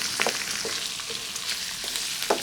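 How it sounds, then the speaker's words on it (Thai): Red curry paste stir-fried in hot oil over a low-to-medium flame, giving a steady bright sizzle with soft scraping stir strokes at irregular intervals, close and continuous with no talk. "ดูว่าน้ำมันเริ่มร้อน ใส่พริกแกง จากนั้นเริ่มผัด"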